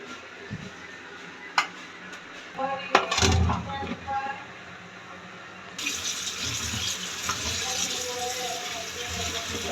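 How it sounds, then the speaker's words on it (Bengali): Running tap water pours over mixed vegetables (tomato, radish, carrot, new potatoes, beans, cauliflower) being washed together in a kitchen sink, with a few clattering knocks and splashes, and the flow growing louder and steadier toward the end. "এখন আমি সবজিগুলো ধুয়ে নিচ্ছি কাটার আগেও একবার ধুয়েছি এখন সবগুলো মিলে একটু ধুয়ে নিচ্ছি"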